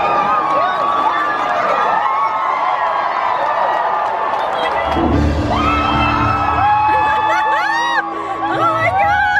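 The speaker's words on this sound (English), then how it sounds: "People are screaming, things are happening." Crowd at the Magic Kingdom's Happily Ever After fireworks, dense cheering and whooping that swells after a loud burst midway, with shouting voices and layered noise throughout.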